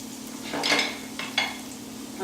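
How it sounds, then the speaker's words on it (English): Garlic and lemon zest sizzle in a hot pan, a soft crackling hiss that swells in a few bursts over a low steady hum. "you want to hear it sizzle like that, or else the pan's not hot enough"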